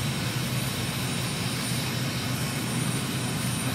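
Steady, loud aircraft engine drone in Microsoft Flight Simulator during a slow 160-knot approach, a continuous broadband roar with a low hum and no change in pitch throughout.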